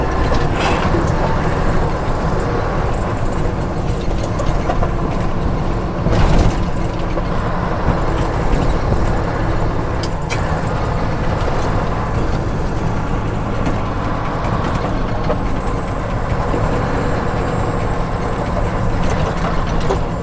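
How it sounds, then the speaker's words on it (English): An R600 car driving along a rough road, its engine droning steadily and loudly throughout with occasional clunks and bangs from the suspension standing out. "help the clunking and banging sound effects too much."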